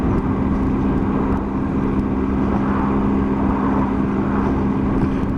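A 2018 Triumph Tiger 800 XRT three-cylinder motorcycle engine while riding, a steady smooth hum with a constant low tone and wind noise, loud and unbroken for the whole stretch.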